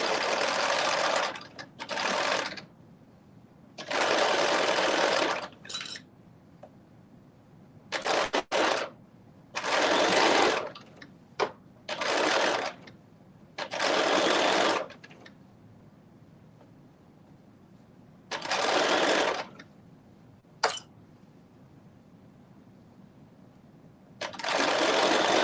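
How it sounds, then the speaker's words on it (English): A sewing machine runs a basting stitch through dress fabric in loud, steady whirring bursts of a second or two, stopping and starting many times with short quiet gaps, close to the microphone and with no talk. "just doing that basting stitch to make it so much easier to keep all the fabric together"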